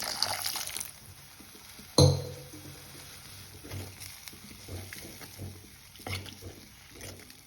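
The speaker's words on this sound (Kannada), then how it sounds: "ಈಗ ನಾನು 1 ಗ್ಲಾಸ್ ನೀರು ಆ್ಯಡ್ ಮಾಡ್ತೇನೆ ಫ್ರೆಂಡ್ಸ್." A glass of water poured into a cooking pan of Bombay-style aloo sagu: a hissing splash at the start, a sharp clink against the pan, then soft bubbling and gentle stirring sounds fading to low simmer.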